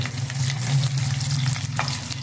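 Cumin and sesame seeds fry in hot oil in a pan, giving a steady, close sizzle that crackles along evenly and never stops.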